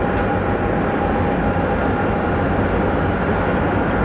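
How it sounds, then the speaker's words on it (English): A Southwest Boeing 737 MAX 8 on final approach into Sky Harbor Airport gives off a steady, broad jet-engine roar with a faint high whine, continuous and fairly loud with no talking. "Our Southwest flight from Boise is on final."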